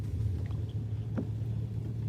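Car engine idling with no exhaust fitted, a low, steady rumbling drone close by, loud and continuous, with a brief sharp tick partway through and no talking.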